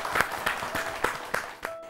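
Studio audience applause at a women farmers award show, a short, fairly faint patter of clapping with a few distinct rhythmic claps standing out.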